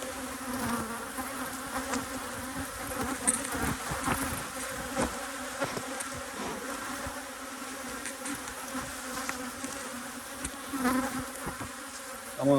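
Honey bees buzz around open hives during a hive inspection. A steady, droning hum holds throughout, with bees passing close now and then and faint handling noises underneath.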